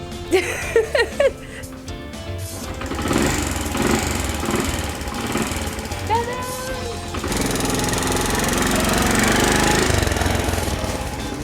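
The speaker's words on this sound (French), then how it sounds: "Petite démonstration de Léa qui a appris à rouler à scooter" A small scooter engine runs with a buzzing, rattly drone that rises and settles as it is ridden, with brief voices near the start.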